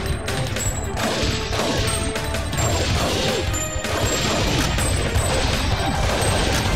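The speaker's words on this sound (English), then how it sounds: "must be firing more than three shots at once" Rapid bursts of gunfire from the Time Crisis 2 arcade shooter, played on PS2 with a G-Con2 light gun, crackle densely and loudly throughout, with overlapping shots and impacts and no pauses.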